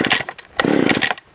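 Cold start attempt on a chainsaw with a choke lever and no primer bulb: a couple of quick, loud rasping bursts close by as the cord is pulled and the engine briefly sputters.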